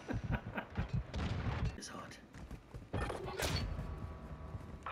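Scattered gunshots from other players in an online multiplayer game, irregular cracks and thumps at middle distance, heard under talk from a player.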